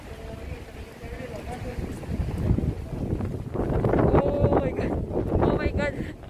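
Strong wind on a street in Valencia, Spain, roars and buffets the microphone continuously, growing louder partway through, with faint voices and outdoor noise underneath.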